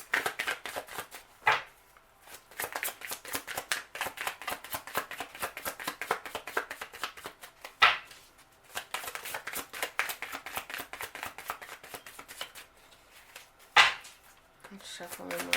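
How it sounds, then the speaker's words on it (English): Tarot cards being shuffled by hand: rapid, dense riffling in long bursts broken by a few short pauses and sharp taps as the deck is squared, close and fairly quiet with no talking. "Let's shuffle one more time."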